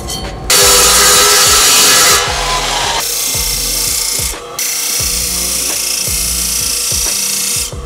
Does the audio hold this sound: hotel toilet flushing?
no